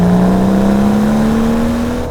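A 2017 BMW M760i with its V12 engine pulls hard out of a turn, a steady, rising engine drone swelling loud and close for about two seconds with no voices.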